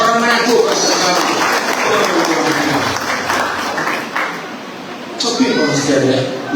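A crowd at a Christmas gathering in the village of Sonde claps for the people of Manado, loud sustained applause with chatter and laughter mixed in, briefly easing before swelling again.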